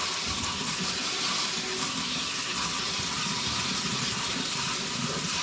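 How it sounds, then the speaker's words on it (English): Cold tap water runs steadily into a kitchen sink, rinsing freshly harvested seeds in a strainer, with a continuous close splashing rush and no voices. "we're just going to rinse them really good"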